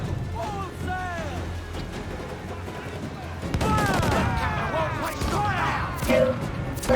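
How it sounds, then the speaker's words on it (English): Heavy ship cannon and mortar fire in Assassin's Creed Black Flag, booming blasts and crashes rolling over rushing sea and battle noise that swells louder midway, with shouted voices and whistling projectiles mixed in. "There comes the mortars."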